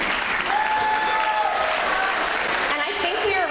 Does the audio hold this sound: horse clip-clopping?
no